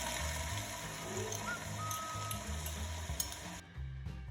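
Garlic ginger paste sizzles steadily in two tablespoons of hot oil with cumin seeds in a pan, a continuous close frying hiss that cuts out abruptly near the end.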